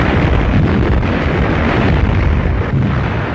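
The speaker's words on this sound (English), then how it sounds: "Destroyers answer with depth bombs." Depth charges from World War II destroyers rumble with dense, continuous, booming low noise and slight swells, close and loud, with no separate blasts standing out.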